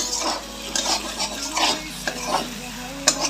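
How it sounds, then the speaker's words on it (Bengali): Saag greens fry in oil as a spoon stirs them against the pan. A steady sizzle runs throughout, with rhythmic scraping strokes and a sharp metal clink near the end. "দেখুন আমার সাইড দিয়ে তেল ছেড়ে দিয়েছে, তো আমার শাক ভাজাটা হয়ে গিয়েছে।"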